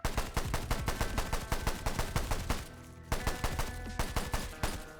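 Rapid pistol fire from a high-capacity, low-damage handgun in the video game Sulfur, loud and close, with a fast steady string of shots, a brief pause, then another burst of shots.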